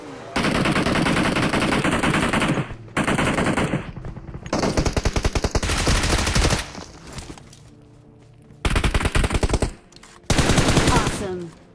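Automatic gunfire during a firefight in the mobile game PUBG Mobile, with loud sustained bursts separated by short gaps and a quieter stretch of scattered shots near the middle.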